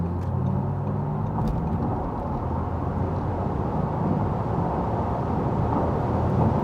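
An Audi RS e-tron GT electric car accelerates hard from about 90 km/h, heard from inside as a loud, steady rush of road and wind noise with a low drone and no talking.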